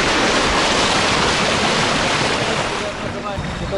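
A long motorboat speeds across the sea off Cape Tarkhankut in Crimea, with loud, continuous wash of waves and spray against the hull and steady wind rush close to the microphone, no speech.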